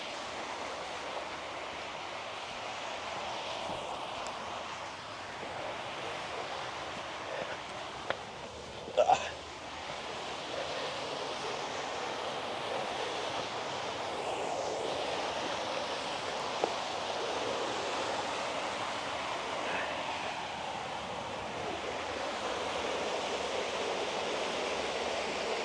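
Waterfall at Taf Fechan in South Wales: a constant, even rush of falling water heard from some distance, with a couple of faint clicks and knocks near the recorder.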